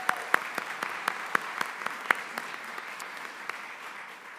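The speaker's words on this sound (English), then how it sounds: "Let's give them a round of applause." Sparse, quiet applause at a 2024 university honors convocation, scattered individual claps ringing out in a large hall over a soft background wash, fairly distant and thinning toward the end.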